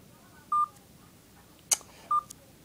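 Two short keypad tones from a Motorola EX124G mobile phone, each a clean steady beep about a tenth of a second long, separated by a soft click, fairly quiet and alone with no talk.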